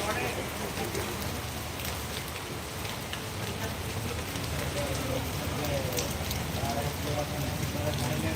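Rain falls steadily over Panthawada, a constant broadband patter and hiss on surfaces, even in loudness throughout.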